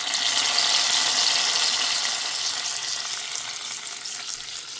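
Mustard seeds, dried chili and curry leaves fried in oil are poured into a very hot iron pan of coconut-ground shrimp curry, giving a steady, loud broadband sizzle that slowly eases over about five seconds.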